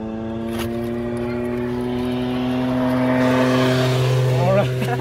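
A motorbike passes close by with a loud, steady engine drone whose pitch rises toward the end, heard alone without talk.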